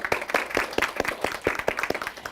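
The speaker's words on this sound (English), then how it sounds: "Round of applause for yourselves." Audience applause after an elementary school derby match, with a quick run of sharp, distinct hand claps from a small group, moderately close and steady, with no talk over it.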